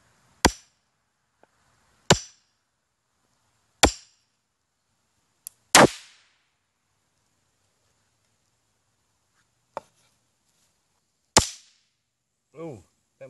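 Sharp cracks of flash powder set off by hammer blows, six distinct bangs spaced irregularly over the span with silence between, each a loud near snap with brief decay, plus a few faint clicks and a short rustle near the end.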